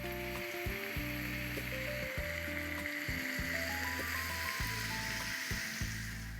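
Chicken with chunks of potato, papaya and carrot sizzles quietly in a pan as it is stirred, with occasional scraping clicks. Steady tonal background music plays throughout.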